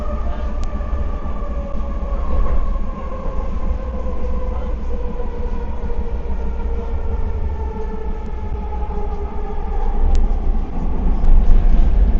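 A metro train rolls into Metrotown station, a steady rail rumble and whirring motor tone that falls as it slows, close and continuous throughout.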